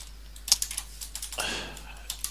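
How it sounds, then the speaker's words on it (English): Computer keyboard being typed on while someone enters code, with a quick scatter of light key clicks and short bursts of taps, close and fairly quiet. "And here we will type yet another loop."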